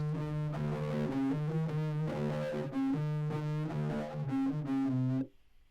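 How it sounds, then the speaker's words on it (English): An electric guitar with heavy fuzz distortion plays a thick, buzzing riff of sustained, gritty notes, loud and close, then cuts off abruptly. "guitar with some fuzz on it"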